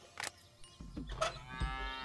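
A cow moos in the video game Deponia, in a short low bellowing call of about two seconds at moderate level, with no talk over it.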